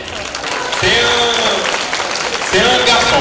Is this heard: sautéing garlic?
no